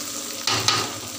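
Curry ingredients sizzle in hot oil in a home wok, with a continuous close fry and two sharper bursts of scraping and stirring.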